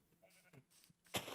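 Sheep bleating in Minecraft, a few short blocky bleats scattered over a second or so, the last one loudest, fairly quiet overall with no talk.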